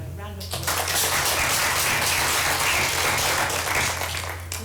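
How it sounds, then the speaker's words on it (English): A school prize-giving audience applauds a prize winner, steady, full-room clapping that swells quickly and holds evenly for several seconds before easing slightly at the end. "can we give Hannah a round of applause?"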